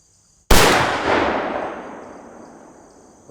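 A single loud, close muzzleloader rifle shot bursts out of near silence, followed by a long rolling echo that fades gradually over several seconds.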